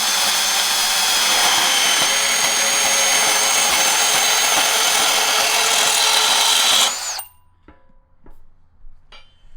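A DeWALT 12V cordless band saw cutting, a loud, steady, close whine that holds for about seven seconds and then stops abruptly, leaving quiet handling clicks afterward.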